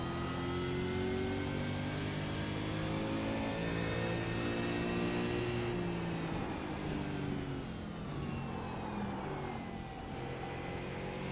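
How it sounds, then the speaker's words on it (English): Race car engine noise in the iRacing sim at Bathurst, a loud sustained whine that rises and falls with gear changes, heard steadily throughout without commentary over it; tire sliding is not clearly distinct from the engine. "You can hear those tires sliding."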